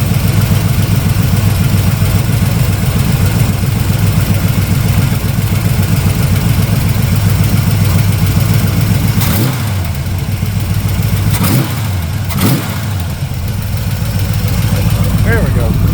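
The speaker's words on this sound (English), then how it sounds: "Once it heats up a little more, you can blip it again and it'll idle on down." A warmed-up carbureted engine idles loudly and steadily nearby, with a few brief blips of throttle near the end before settling back to idle.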